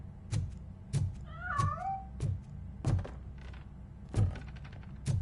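A cat meows once in a short rising-falling call, set among repeated heavy thumps and knocks in a film scene with a police robot, fairly close and fairly quiet.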